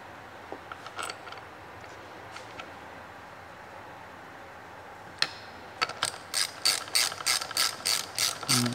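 Quick clicking bursts of a ratchet snugging bolts on a Ford 9-inch limited-slip differential carrier, near and distinct, coming after a stretch of faint shop noise and a few scattered clanks.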